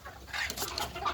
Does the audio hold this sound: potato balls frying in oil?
no